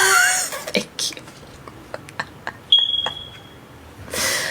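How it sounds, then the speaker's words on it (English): A single short high electronic chirp from a smoke detector, played as a sound effect, ringing out clearly over background talk and scattered clicks. "Change your smoke detector, please."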